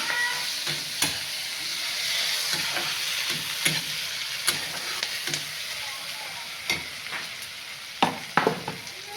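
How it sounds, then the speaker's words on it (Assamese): Onions fry in hot oil in a pan for fish curry, a steady sizzle broken by scraping, clacking strokes of a spatula stirring them, close and clear with no voices. "পিঁয়াজ, পিঁয়াজটো ভালকৈ ফ্ৰাই কৰি ল'ম।"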